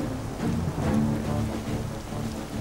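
Steady outdoor rain hisses continuously, a dense even wash of falling drops with no voices over it.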